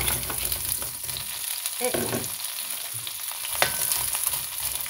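Frozen shrimp, put in straight from the freezer without thawing, fry in hot oil with a dense, continuous close sizzle and crackle, a brief utensil knock and a single short spoken word.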